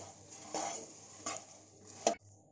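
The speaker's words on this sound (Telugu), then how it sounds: "ఇలా కంటిన్యూస్గా కలిపి మురుమురాలని రోస్ట్ చేసుకోవాలి" Puffed rice (murmura) stirred in a pan while roasting on low flame for spicy chivda, with soft dry rustling and a few clinks of a spoon against the pan. A sharper scrape comes near the end, then it stops.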